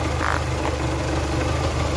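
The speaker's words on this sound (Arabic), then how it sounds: "ليك الموتور فاش يرعش" Renault Symbol 2018 engine idling roughly with a shaking, uneven running note, a steady low mechanical hum that stays loud and close and runs unbroken without voices.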